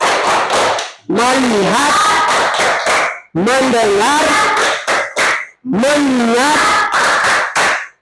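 A classroom of pupils performs a rhythmic focus clap, sharp group claps in patterned bursts mixed with loud chanted words from the class, close and energetic.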